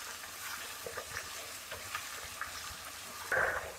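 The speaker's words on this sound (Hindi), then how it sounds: "ब्रोकली को हमने 1 मिनट फ्राई कर लिया है।" Broccoli stir-fries with potatoes and mushrooms in a pan, producing a steady sizzle with repeated stirring scrapes and a louder clatter near the end.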